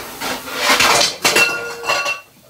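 Metal lid set onto a cooking pot of simmering pakbet, Filipino vegetable stew: a few close clanks and scraping clinks of metal on metal over about two seconds in a home kitchen.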